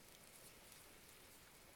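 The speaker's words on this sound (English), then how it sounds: "That's the sound of a happy fire doing its business." Campfire burning steadily outdoors, a faint, even low rush with soft crackle-like patter and a sharp pop at the very end.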